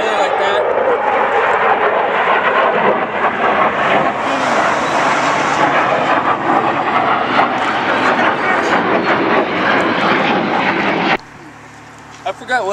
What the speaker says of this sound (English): Those are really airplanes.